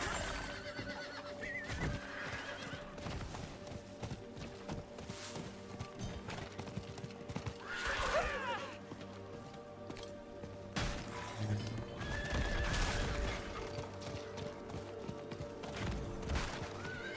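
Horse neighs and galloping hooves from a charger mount in the video game Diablo 4, set amid dense game music and effects, with louder whinny bursts around the middle and near the end.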